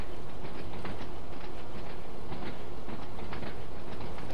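A train in Train Sim World 2, running the Isle of Wight line, rattles steadily along its rails with a continuous rumbling clatter and faint periodic clicks, heard alone without any talk.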